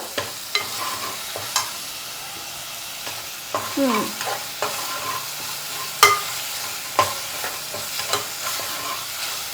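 Ginger garlic paste fries in a pan for an Andhra-style korameenu fish curry, a steady sizzle broken by scattered clinks and scrapes of stirring, close and fairly loud, with no voices.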